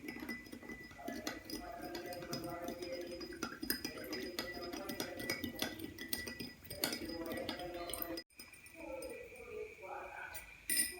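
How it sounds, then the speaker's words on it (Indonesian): A solution is stirred in a glass, with a spoon clinking against the glass in a quick, repeated, uneven rhythm close by and faint room noise underneath. "Kita aduk terlebih dahulu."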